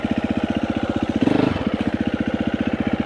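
A motorcycle engine held at low revs during a slow pivot turn, chugging in a steady, even pulse close by, with a brief throttle blip midway before settling back to the same low idle beat.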